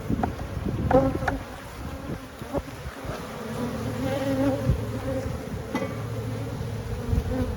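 Honey bees buzz in a steady, dense drone at an open beehive, close and loud, with occasional individual bees whining nearer past the microphone.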